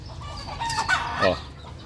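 Chickens cluck steadily close by while a rooster lets out a crow, with the farmyard birds' calls rising and falling over a short stretch and no talking.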